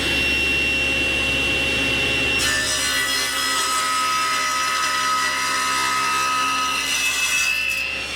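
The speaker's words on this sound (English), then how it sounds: "Dust collection." Dust collector running in a woodshop during work on end grain wooden drink coasters, a loud steady roar that grows brighter and fuller a couple of seconds in and holds throughout.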